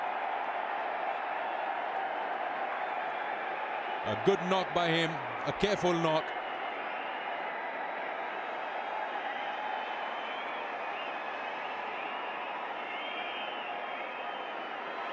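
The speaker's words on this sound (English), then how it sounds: "And the crowd loves it here" A home crowd at a Pakistan vs Zimbabwe ODI cricket match applauds the captain reaching his fifty, a steady, distant wash of clapping and cheering that runs throughout, with a commentator speaking briefly over it.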